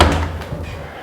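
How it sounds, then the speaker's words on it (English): Heavy double doors to a kitchen in a house swing shut with a single close, muffled thud at the start, followed by a short low rumble of movement and no talking. "I'm going to go in the kitchen through these double doors,"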